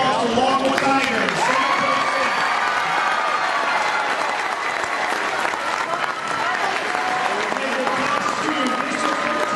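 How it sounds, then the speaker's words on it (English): Loud, sustained applause and crowd noise from the audience at a high school basketball game between Bryant and Lockwood, filling the whole stretch with steady clapping and cheering. "Let's give them a loud round of applause for Lockwood Tigers."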